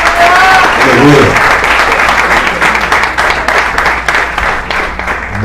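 A church congregation at a Sunday service applauds loudly and continuously, dense clapping filling the room while a voice calls out over it and the applause gradually thins.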